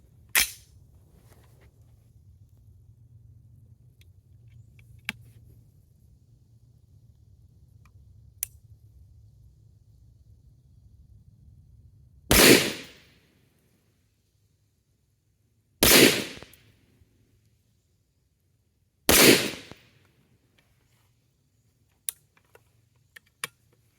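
A BCA .223 Wylde upper fires three loud, close rifle shots several seconds apart on an outdoor range, each a sharp crack followed by a short echo, with faint clicks around them.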